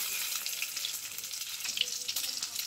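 Boiled eggs fry in hot oil with a steady, soft, crackling sizzle and scattered small pops, heard close and alone.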